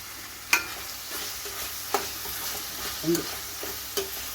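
Green beans for a Kerala-style thoran are stirred and fried in a pan, with a soft steady sizzle broken by several sharp scraping stirs spaced about a second apart.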